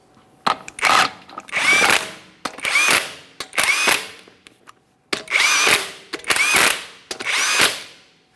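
An impact or power tool spins lug nuts onto the front wheel of a 2017-2023 GMC Acadia in a series of about eight short, loud whirring bursts with brief pauses between, close by.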